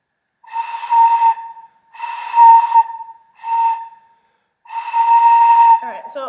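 A beginner blowing a flute during a lesson gives four breathy, airy tones of uneven length, separated by short pauses, ending in a brief spoken voice.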